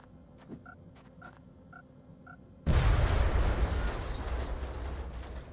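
A grenade explosion in the strategy game XCOM: Enemy Within, where a few soft interface blips are followed by one sudden loud boom that rumbles and decays over the next few seconds.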